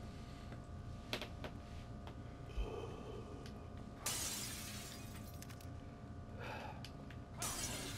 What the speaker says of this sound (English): Punch all this glass.